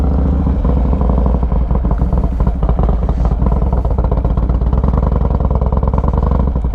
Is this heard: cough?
no